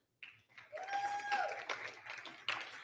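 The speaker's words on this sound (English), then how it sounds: "Let's give her a round of applause." An audience at a tech awards ceremony applauds, clapping building quickly and continuing briefly with moderate loudness, with a whistle-like tone heard over it.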